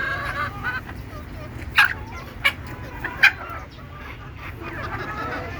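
Native desi chickens kept in a coop cluck outdoors, with three short sharp clucks standing out over a soft, steady background murmur.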